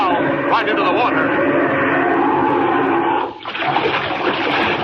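Splashing water in a radio drama as a figure dives into icy Arctic water among ship-surrounding ice floes; a steady loud rush of water and churning fills the clip, with a brief dip near the end, mixed with other sound.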